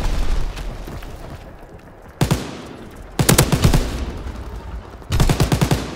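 Gunfire in Call of Duty WW2 multiplayer: several loud, close bursts of rapid automatic fire separated by brief lulls, with a rumbling battle din underneath and no talking.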